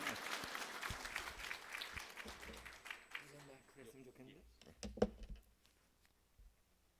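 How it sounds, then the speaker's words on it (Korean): A church congregation applauds to welcome the pastor at an evening New Year revival meeting. Steady, fairly faint clapping continues for several seconds and thins toward the end, with some voices mixed in. "목사님 나오실 때 우리 큰 박수로 목사님 환영해 주시면 좋겠습니다."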